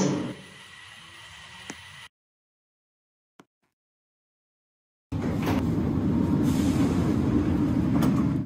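An airport transit train rumbles in loudly after a quiet gap, its steady roar filling the final seconds, preceded by softer platform ambience.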